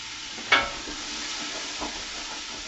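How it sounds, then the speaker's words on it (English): A wooden spoon stirring olive oil in a hot pan, giving a soft, continuous sizzle with one sharp scrape or knock near the start and a few faint scrapes after it. "wooden spoon, give it a stir, bring it down to medium"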